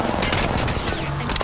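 Rapid automatic gunfire in Apex Legends rattles out in a dense, loud burst of closely spaced shots over a rumbling game background.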